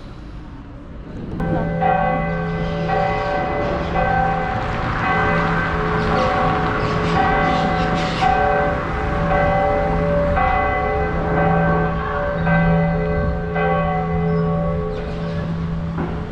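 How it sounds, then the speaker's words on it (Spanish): Church bells ring steadily and fairly loud for a long stretch to call people to mass in a town in Córdoba, Veracruz, with layered sustained tones and faint street background. "Ya se escuchan las campanas llamando a la misa."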